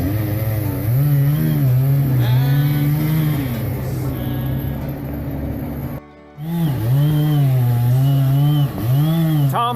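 A Stihl chainsaw runs steadily at high revs during a tree removal, loud and close, its engine pitch dipping and rising as it cuts, briefly cutting out before roaring back.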